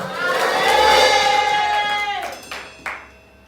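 A church congregation at a Wednesday worship service raises a loud collective acclamation to the Lord, swelling voices that sustain for about two seconds, then fade, with a couple of sharp accents near the end.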